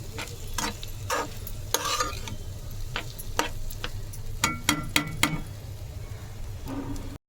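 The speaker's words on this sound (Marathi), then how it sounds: "आता झालं असं हळूहळू त्यांना मिक्स करायचे" A spoon stirs kanda poha, washed flattened rice with onion, in a pan, sounding as a run of sharp scraping clicks and taps at an uneven rhythm over a soft, steady sizzle. It is close, and nobody speaks.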